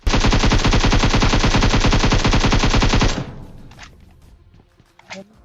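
Dense automatic fire from an AKM rifle in a video game with a red dot sight, a loud sustained burst of rapid shots lasting about three seconds, then stopping abruptly, followed by a couple of faint distant thuds.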